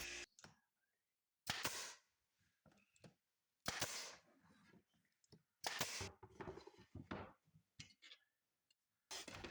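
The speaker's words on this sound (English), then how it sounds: "Then I shoot some finish nails in." A nail gun fires finish nails into scrap wood for a rustic farmhouse build, several sharp, close bangs spaced a second or two apart with near silence between shots.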